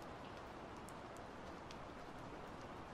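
Rain falls steadily during a storm, a soft, even hiss of drops on surfaces that holds without pause at low volume.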